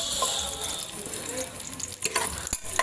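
Chopped garlic drops into hot cooking oil for a Filipino nilaga, giving a close, crackling sizzle with scraping stir sounds and a few sharp pops near the end.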